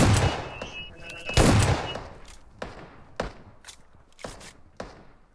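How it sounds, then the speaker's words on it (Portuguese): Gunfire in the battle-royale game PUBG: a rapid burst of loud shots followed by scattered single reports and thuds over about five seconds, close and sharp with a noisy background. "Dei tiro nos caras ali já."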